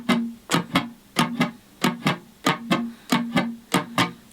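Three-string cigar box guitar playing a shuffle intro: paired plucked strokes in a steady long-short swing rhythm, close and clear with no talking.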